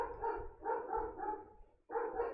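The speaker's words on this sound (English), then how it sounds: "My dog should really shut the fuck up." A dog barks in a quick run of four or five sharp barks, a short pause, then another bark, moderately close and fairly quiet, with no talking over it.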